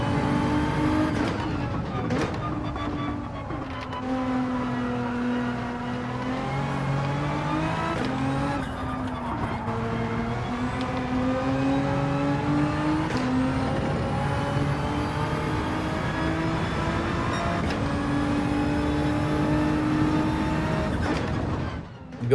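A race car engine on the Grand Valley circuit in Gran Turismo, revving up and down through braking and uphill twisty sections, with repeated gear changes and a sustained high whine throughout, no talking.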